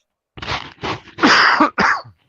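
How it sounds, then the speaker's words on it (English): Several harsh coughs in quick succession, close and loud, with brief pauses between bursts. "Hopefully you don't hear me coughing."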